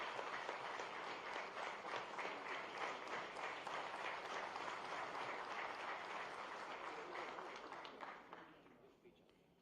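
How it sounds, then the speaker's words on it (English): An audience at an MoU signing ceremony in Gandhinagar applauds, a dense, sustained round of clapping that tapers off toward the end. "So please give a round of applause."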